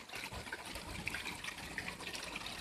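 A small seaside waterfall and stream pour in a soft, continuous splashing gush, faint and steady with light bubbling trickles throughout.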